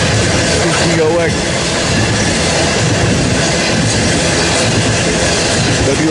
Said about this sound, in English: another eastbound loaded coal drag being led by a 70 Mac